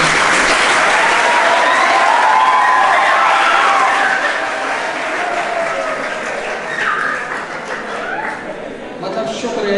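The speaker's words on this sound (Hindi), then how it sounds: "शुक्र है कि आप लोगों ने यही तालियां बजा दी" Audience applause fills a college debate hall, a dense steady clatter of clapping from a sizeable crowd that slowly thins toward the end, with voices and cheers mixed in.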